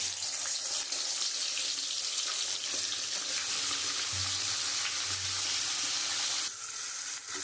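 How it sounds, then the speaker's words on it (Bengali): Rohu fish head frying in hot oil in a wok, giving a steady, loud, hissing sizzle that runs unbroken throughout, with faint low clatter from the pan underneath. "তেলটা গরম হয়ে গেছে, আমি মাথাটা লাল করে ভেজে নেব"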